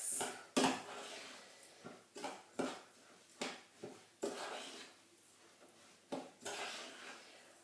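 A spoon mixes oats with liquid flapjack mixture in a bowl, making a series of uneven scraping, clunking strokes against the bowl, close and fairly quiet, with no talking.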